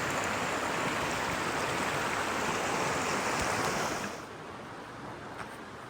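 Creek water rushes loudly and continuously during a trail crossing, then drops suddenly to a softer, steady flow for the last couple of seconds; no one speaks.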